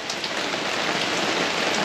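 Steady rain pours down around an outdoor cooking spot sheltered by an umbrella, a dense, even hiss of drops striking surfaces that carries on without a break and with no voices.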